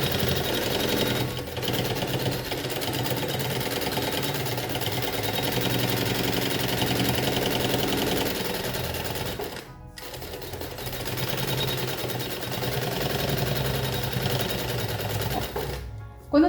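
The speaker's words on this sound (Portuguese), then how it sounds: "vou passar a costura de segurança prendendo o bagum" A sewing machine runs a safety seam along the side of a lunch bag, pinning the lining fabric without the padding yet: a steady mechanical whir with rapid stitching, pausing briefly twice, close and fairly loud.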